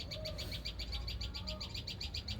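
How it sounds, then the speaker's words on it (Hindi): Small garden birds chirping in a quick, regular series of bright tweets, close by and fairly soft, with no talk over them. "मेरी ये छोटी चिड़ियों की आवाज़ आ रही होगी"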